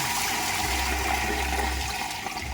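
Water rushes steadily through a tank fitted with a floatless level controller while the pump runs, a continuous loud broad flowing noise with a low rumble, close and without talk.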